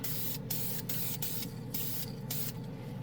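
Dupli-Color spray can primer hissing onto a plastic model part in steady close bursts, with short pauses between passes.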